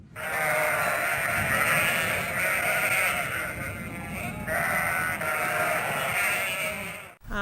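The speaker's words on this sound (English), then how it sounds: "Perry Bay Sheep Farm provide the sheep for us, and it's owned by John and Lorraine Buchana" A flock of sheep at a sheep dog trial bleating loudly and continuously, many overlapping calls close by, with a brief pause near the end.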